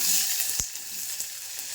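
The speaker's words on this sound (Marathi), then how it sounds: "जिरा, मोहरी छान असा तडका येऊ द्यायचा त्याचा. त्याच्यानंतर मग कांदा टाकायचा." Onion hits a cumin and mustard seed tempering in hot mustard oil, giving a bright, close sizzle with a sharp crackle near the start, then a steady hiss that fades slightly.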